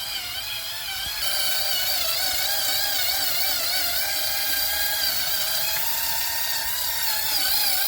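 Power sander buffing a yellowed car headlight with 3000 grit: a loud, high, steady whine that rises after the first second and holds with slight wavering pitch, close up and without speech.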